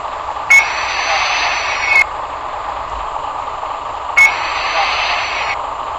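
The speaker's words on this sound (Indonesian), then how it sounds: "Suara rem tangannya kayak gini Mas Bro." In the bus driving game Bus Simulator Indonesia, the handbrake of a bus releases two sharp, loud air hisses, each lasting over a second, over a steady hum of engine and game ambience.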